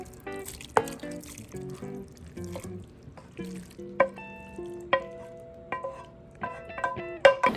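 A shrimp and vegetable mixture being stirred into soup and rice in a pot, with a run of clinking and scraping utensil strokes against the metal, close and fairly loud, over quiet wet squelching.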